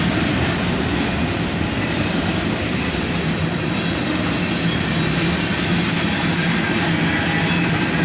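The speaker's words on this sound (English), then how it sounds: "the end of the train goes by us here" A CSX freight train hauling hopper cars rolls past close by, a loud, steady, continuous rumble of wheels on rail with faint clatter throughout.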